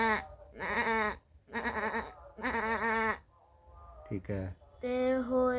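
A young boy imitates a goat with several quavering bleats in quick succession, close and loud, followed by a brief spoken phrase and another bleat; his voice produces the animal call.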